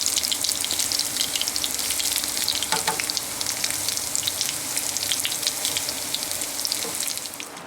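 Coconut shrimp fry in hot oil with a loud, continuous crackling sizzle and dense spattering pops that soften slightly at the very end.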